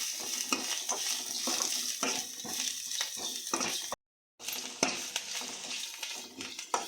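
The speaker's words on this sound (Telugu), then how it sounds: "ఇప్పుడు చిటికెడు పసుపు, కొత్తిమీర వేసి వేయించుకోవాలి" Onion fried in a pan with a pinch of turmeric and coriander leaves added for a masala buttermilk tempering, giving a steady close sizzle with stirring scrapes throughout, a brief silent break midway, then continued frying.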